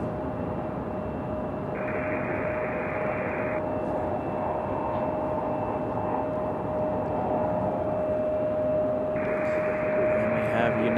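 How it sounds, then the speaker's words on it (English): A Boeing 757 jet departs Raleigh-Durham International Airport, its engines a sustained, fairly distant broadband roar with a steady tone, heard alone with no talk. "Our second 757 departure of the day."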